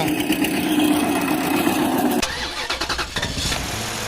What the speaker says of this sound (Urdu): پہلے ٹریکٹر ٹرالی مٹی چھوڑنے جاتا ہے۔